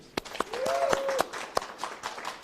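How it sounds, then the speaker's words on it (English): Audience applause at a Loudoun Cares charity art auction, with scattered sharp claps over a crowd wash and a brief whistle-like tone, moderately loud. "Let's give them a round of applause for supporting Loudoun Cares and supporting this event, please."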